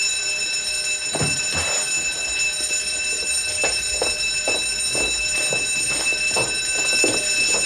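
A building's alarm bell rings continuously at Ashley Hall, a steady high electric ringing that persists throughout, with scattered clatter and movement beneath it.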